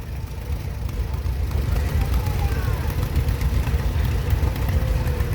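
A 1938 John Deere Unstyled L antique tractor rolls along in a parade, its steady low engine rumble continuous throughout amid outdoor crowd noise.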